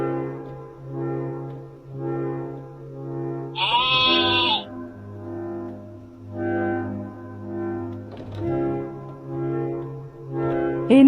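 A sheep bleats over and over at close range, each cry drawn out and wavering, with short pauses between them and no other voices.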